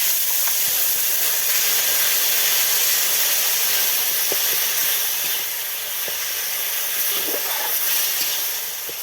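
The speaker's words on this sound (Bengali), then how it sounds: "এবার আমি দিয়ে দিলাম অল্প একটু জল" Water poured into a frying tomato masala for a cabbage dish, producing a loud, continuous sizzling hiss that holds steady and eases slightly toward the end.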